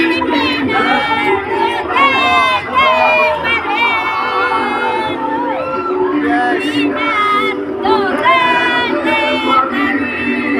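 A large crowd of political supporters shouting and chanting the name Duterte, loud and continuous, with rising rhythmic cheers and whoops layered over a dense roar of voices.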